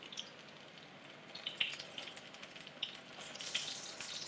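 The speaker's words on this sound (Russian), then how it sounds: "Теперь мы все это с вами поджариваем." Food fries in a pan of hot oil, a faint, steady sizzle dotted with small crackling pops, heard alone without voices.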